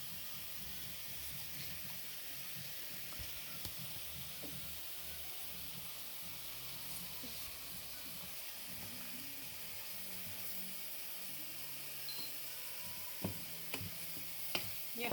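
Leeks cooking in a pan for risotto give a steady, soft sizzle and hiss that runs throughout, with faint stirring knocks and a few small clicks near the end.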